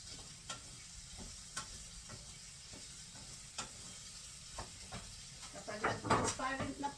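Onions and potatoes fry in a pan for corned beef with egg, giving a continuous sizzle with light scraping and stirring clicks that grow louder near the end, while a voice talks over it.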